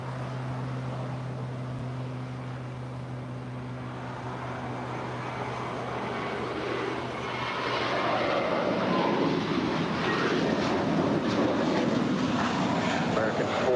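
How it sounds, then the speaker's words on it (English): A Scandinavian Airlines Airbus A350-900 airliner arriving from Copenhagen at LAX, its steady distant jet engine roar building louder over the second half, with a low hum underneath and a voice talking early on. "Up there on the north side is the SES Scandinavian A350-900 coming from Copenhagen."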